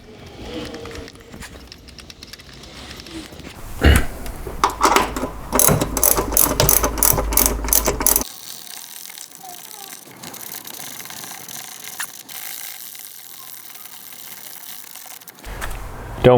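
A ratchet tightens a 17mm bolt on a PERRIN pitch stop brace mount on a Subaru WRX or STI, a loud run of rapid close clicks for about four seconds before the sound drops to a quiet background.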